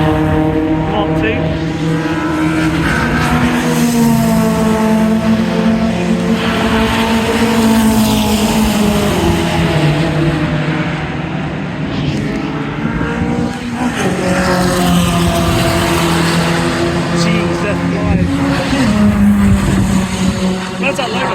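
Race cars circulate on the Donington Park circuit during a track day, their engines revving and droning loudly with rising and falling harmonic pitch as they pass one after another.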